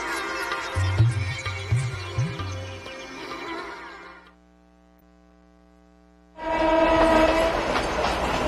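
A train bound for the old British hill station at Simla, with a loud horn blast over rolling wheel and carriage noise, a brief near-quiet pause with a steady hum, then the horn and rumble surging back strongly.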